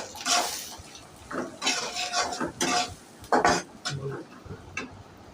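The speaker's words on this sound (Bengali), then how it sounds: "কাঁচামরিচ দিয়ে লাড়ে দিলাম" A spoon clinks and scrapes in a pan as green chilies are stirred into a curry of Padma river hilsa fish roe, irregular metallic strokes over a soft sizzle, with a voice talking in between.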